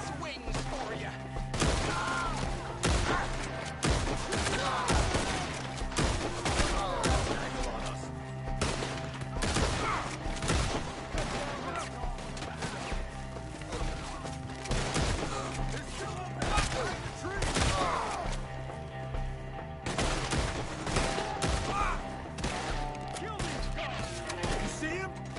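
Shootout in Red Dead Redemption 2 with enemies firing from trees, rapid repeated gunshots cracking steadily throughout at moderate loudness, mixed with shouted voices.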